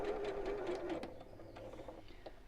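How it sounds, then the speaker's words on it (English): A sewing machine stitches a sequin purse in a quick, close whirr that slows and stops after about a second, followed by faint clicks and handling sounds. "then we'll sew"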